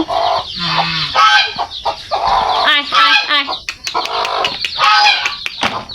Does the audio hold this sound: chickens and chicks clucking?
yes